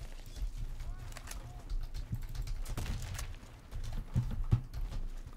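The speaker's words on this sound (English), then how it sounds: "I'm hearing footsteps like never before." Footsteps from the PC shooter Warface, a run of quick, clicky steps pattering irregularly with a few heavier thumps, at moderate loudness.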